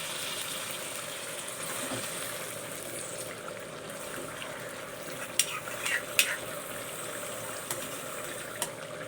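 Water poured by the mugful into greens frying in a pan, a soft steady sizzle and hiss with a few sharp clinks near the end, no talk.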